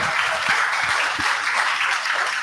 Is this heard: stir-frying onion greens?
no